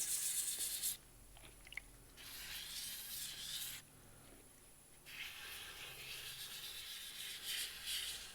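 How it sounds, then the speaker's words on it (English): Close, steady wet sanding of resin with silicon carbide paper: a hissy, gritty rubbing that comes in strokes separated by short pauses, with no talking. "The sweet, sweet sounds of wet sanding."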